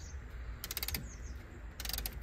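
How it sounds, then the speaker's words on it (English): A ratchet on a brake caliper piston rewind tool clicks rapidly during front brake work on a 2007 Citroen C2 1.6 VTS. There are two short bursts of quick, close metallic clicks with a quiet pause between them. "He's ratcheting it back nicely."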